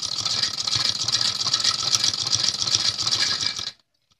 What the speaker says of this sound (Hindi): आप देखोगे कि मैं सिलाई के साथ साथ इस गोटे को भी इसके ऊपर लगा रही हूँ,